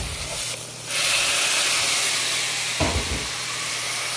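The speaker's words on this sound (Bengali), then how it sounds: "দেখ মশলাটাকে একটু কষাই নেই এইভাবে।" Spice paste with onion, chili, turmeric and salt fries in a pan, giving a steady loud sizzle and hiss. A louder burst of sizzling follows as the mixture is stirred.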